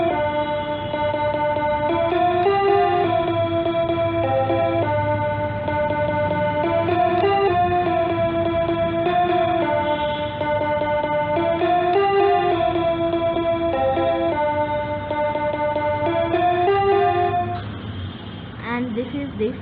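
A Bigfun toy piano plays the melody of a song as a steady line of electronic-sounding notes with a chorus-like sheen. The notes carry on continuously for almost twenty seconds and fade near the end.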